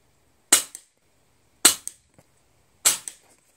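Three sharp shots from a URAGAN compact bullpup PCP airgun filled to 300 bar, fired at a target in a slow, evenly spaced string outdoors, each crack loud and close with a quick faint follow-up tick.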